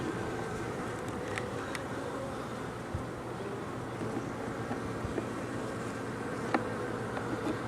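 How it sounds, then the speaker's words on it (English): Honey bees inside an open hive make a dense, continuous buzzing drone close by, steady throughout with a few brief individual bee passes standing out. "I think there's some bees down there exchanging honey from their honey stomachs"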